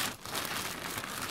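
Crinkling of a plastic goodie bag being opened, a continuous close rustle with no talk over it.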